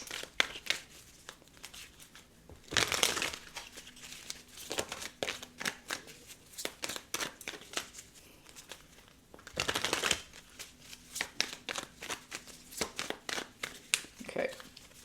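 Tarot cards being shuffled by hand during a reading, with crisp riffling and flicking bursts, two louder extended shuffles and many quick card snaps between them, fairly close and mostly without talk.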